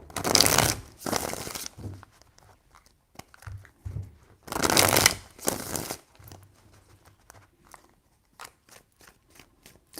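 Tarot cards are shuffled in a few quick riffling bursts, close and crisp, with softer handling taps and rustles between them.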